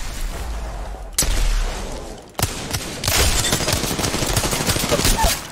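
Gunfire in the shooter Apex Legends: a few separated loud shots with a quiet pause between, then a sustained rapid automatic burst of close, crackling rounds carrying to the end.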